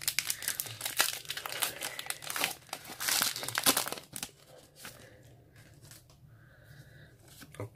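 Foil wrapper of a Pokémon card booster pack crinkles and tears as it is opened, a dense run of close, loud crackling that thins out into softer rustles.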